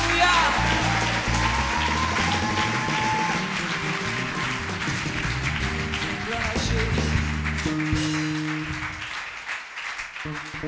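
A church congregation applauds in acclamation during a French-language sermon, sustained clapping under music and voices that gradually thins toward the end.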